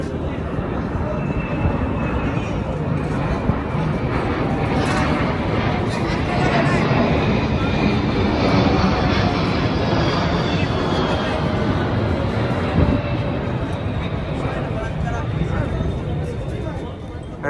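Aircraft at a Qatar National Day air show rehearsal on the Doha Corniche give a loud, steady engine roar that fills the whole stretch, with someone talking over it.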